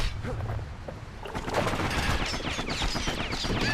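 Enemies fire volleys of projectiles in the action game Bastion, a rapid crackling clatter of shots that builds into a dense, continuous barrage, loud and close, with no voices heard.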